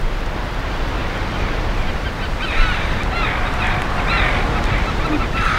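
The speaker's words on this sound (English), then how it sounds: "They're Arctic terns." Arctic terns calling overhead in a seaside setting, several high chirping cries scattered across the middle of the stretch above steady surf and wind noise, fairly distant and moderately loud.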